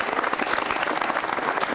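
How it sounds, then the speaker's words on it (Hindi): Studio audience at an Independence Day quiz show with NCC cadets applauds a contestant, steady close clapping filling the whole brief moment with no talk. "तालियां जोरों से बजाइए पलकिन के लिए आप"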